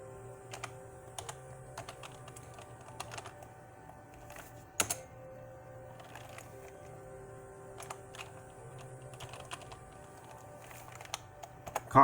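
Computer keyboard typing: scattered keystroke clicks, light and fairly close, in short irregular runs over a quiet room hum, with no talking.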